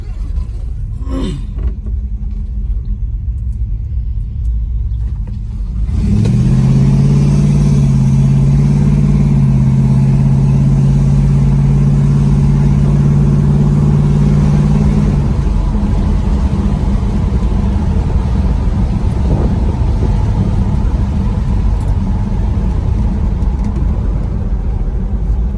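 A 1967 Dodge Coronet 440 on an industrial road: a steady low engine rumble and road roar, loud and close, with a held rev for a few seconds before settling into cruising drone.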